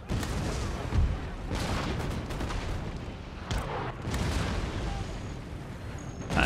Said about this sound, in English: they're back to firing the cannons